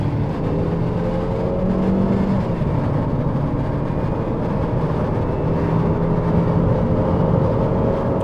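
A 2025 Suzuki Vitara, non-hybrid, accelerates hard at full throttle on a road, its engine note a steady, loud droning roar that holds for the whole stretch, heard from inside the cabin with no talk.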